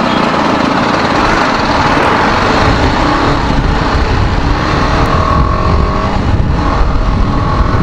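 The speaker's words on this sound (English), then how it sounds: "Hope you can hear a sound from the bike." A TVS Apache RR 310 motorcycle engine runs steadily on a test ride, a loud, continuous broadband roar mixed with wind rush throughout, with no voices.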